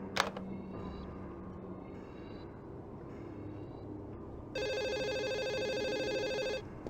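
Telephone ringing in the 1996 PC video game Urban Runner, a bright electronic trill that rings steadily for about two seconds near the end over a quiet, murky background with faint distant clatter.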